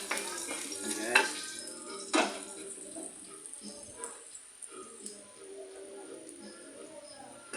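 Garlic sautéing in a pan, with soft sizzling and stirring scrapes, a few louder clanks of utensil on the pan early on, then quieter frying at moderate distance.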